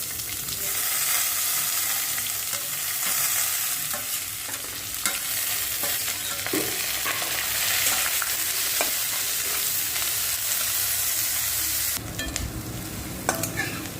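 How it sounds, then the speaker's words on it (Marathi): Onion frying in a pan with peanuts and cashew slices for upma, a steady loud sizzle with stirring scrapes throughout and a brief louder clatter near the end. "थोडे शेंगदाणे घालू काजू काजूचं काप घालून आता कांदा घालून घेऊया"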